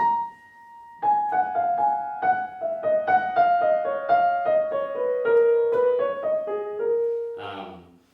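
A single sustained note rings, then a piano plays a flowing Chopin melody over soft accompaniment, ending with a brief noisy shuffle.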